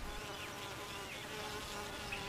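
Honey bees buzz steadily and densely through a waggle dance, a continuous droning hum of many insects close by with no voices.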